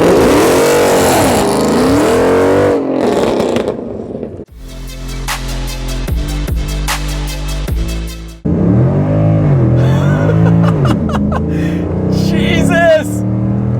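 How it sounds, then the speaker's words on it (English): Mercedes C63 AMG V8 fitted with an aftermarket supercar exhaust, a loud burst of revving in the middle between stretches of excited talk, the engine note rising and falling sharply with crackles. "building one of the best sounding AMG V8 cars in the entire world"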